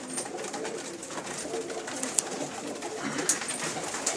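Commercial breed pigeons calling amid a busy outdoor background, with a soft murmur of cooing and a couple of sharper chirps standing out.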